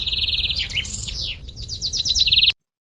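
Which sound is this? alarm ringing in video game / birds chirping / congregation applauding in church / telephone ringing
birds chirping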